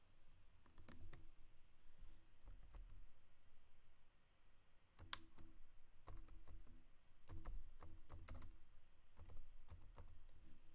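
Bursts of keystrokes on a computer keyboard, clustered in quick runs with short pauses, close and fairly quiet over a low room hum, with no talking.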